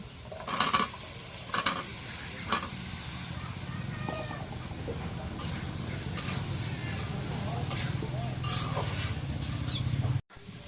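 Potatoes go into a frying spice mix in a pan, with a few sharp knocks and scrapes of stirring over a steady low sizzle. A voice talks in the background.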